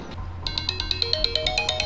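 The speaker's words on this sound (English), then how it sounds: "Hold up, guys. Got a phone call." Phone ringtone for an incoming call, a quick repeating electronic chime pulsing about a dozen times after a brief start, clear and close.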